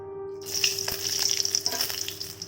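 Dried red chillies and sliced onions hit hot oil in a pan, launching into a loud, steady sizzle and crackle that carries on without pause, with sharp spitting pops scattered throughout.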